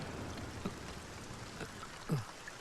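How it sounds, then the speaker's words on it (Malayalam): A steady, dense hiss of rain fills the background, with a few soft thuds and drips breaking through. "നല്ല മഴയല്ലേ"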